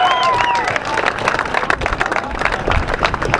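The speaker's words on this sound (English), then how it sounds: "how about a nice round of applause for Mark Zishak Sickerling." An audience bursts into loud, sustained applause with some cheering for a semifinal competition placing, a dense clapping crowd filling the room.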